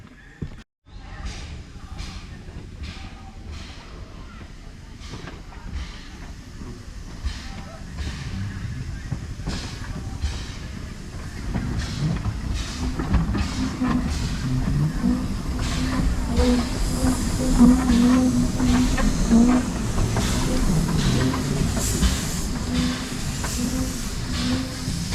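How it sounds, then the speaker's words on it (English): Southern steam locomotive No. 11 on the Isle of Wight Steam Railway, hissing steam and rhythmic chuffing building steadily over about 25 seconds, with clanking and rumbling wheels growing louder nearby. "But this is proper steam loco."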